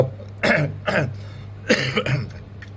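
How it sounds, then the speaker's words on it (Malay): Several harsh coughs in quick bursts, close and loud, with a steady low hum underneath. "batuk aku"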